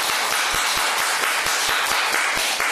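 Church congregation clapping together during a Sunday service, a steady wash of applause with a few louder, regularly spaced claps close by.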